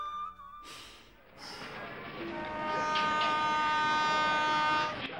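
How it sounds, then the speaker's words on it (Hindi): A local train at a station platform: a horn-like blast and hiss, then a rising, sustained rumble with whining tonal harmonics as the train moves, loud and near. "तांबरम जाने वाली लोकल ट्रेन 5 नंबर प्लेटफॉर्म से रवाना होगी"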